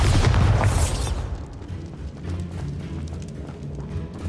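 A Bombarda blasting spell goes off in Hogwarts Legacy, a loud booming burst at the start that rolls off into a rumbling decay and low background noise.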